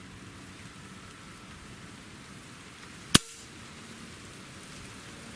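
A single suppressed airgun shot through a Cattleman Guns Covert moderator, one sharp isolated crack midway through steady outdoor background hiss.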